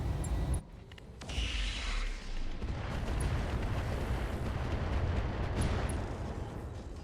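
Heavy mech weapons fire at a Longbow in the BattleTech RogueTech mod, a dense rumbling barrage of booming blasts and explosions that rolls on steadily throughout with no letup.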